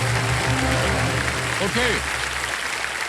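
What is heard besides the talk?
studio audience applause on game show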